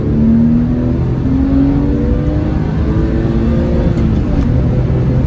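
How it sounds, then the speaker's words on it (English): A Porsche 996 flat-six with aftermarket exhaust pipes pulls hard in second gear from about 4,000 rpm toward redline, a loud, continuous rising engine roar heard from inside the car. "The sound on these flat six is just freaking crazy."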